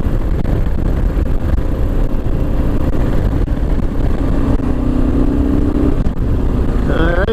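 Kawasaki KLR 650 motorcycle on a chilly test ride, engine pulling steadily and loud close up through continuous wind rush, with a rising tone near the end as it accelerates.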